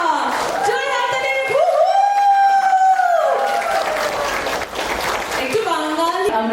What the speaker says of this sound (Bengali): একটু জোরে হাততালি হোক for the bride and the groom here, Ramesh and Sanjukta